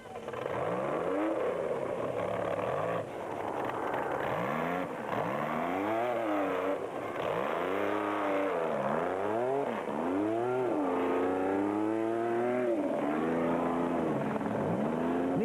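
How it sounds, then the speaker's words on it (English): Rally race cars in the Sun City 400 desert race emerging from dust, several loud engines revving and shifting in repeated rising sweeps, one after another at close range for about fifteen seconds. "That was bat racing pair Gary Bertolt and Brandon Harkes emerging from the dust"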